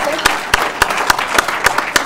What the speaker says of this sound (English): Let's give a big Federal Way round of applause